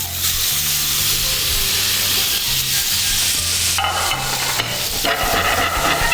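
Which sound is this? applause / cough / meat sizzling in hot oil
meat sizzling in hot oil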